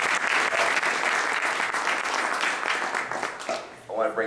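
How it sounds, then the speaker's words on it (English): An audience at a policy briefing claps for a speaker, a sustained round of applause that fades near the end as a voice begins talking. "Give him another round of applause."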